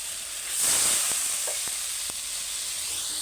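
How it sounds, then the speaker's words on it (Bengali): Potatoes and eggplant are stirred into frying spices for a vegetable curry, a steady hiss of sizzling oil swelling briefly as they go in, with a few sharp utensil scrapes and taps and no talking. "এবার আমি আলু আর বেগুনটা দিয়ে দেবো তরকারিতে সবজি মশলার সঙ্গে নেড়ে নেবো"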